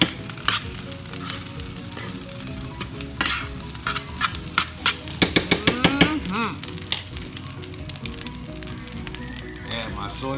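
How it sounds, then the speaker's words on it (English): Parboiled rice frying and stirred in a pot with leftover egg for home-cooked hibachi, a steady close sizzle with repeated scraping stir strokes and clatter, people talking over it. "you add the rice to the pot you just had the egg in"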